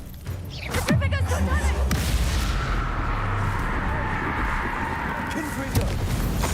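Confringo blasting spell from the video game Hogwarts Legacy: a swooshing cast with a falling tone, then a booming blast that settles into a long, loud, hissing rumble, with voices mixed in.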